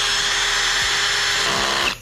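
A PUMA PM-280BL brushless cordless drill set to torque 6 whines steadily at close range, with several short clutch clicks near the end before it cuts off.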